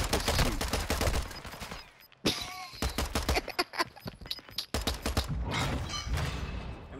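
Video game gunfire rattles in rapid bursts and single cracks, loud and close, with short pauses between volleys and brief talk mixed in.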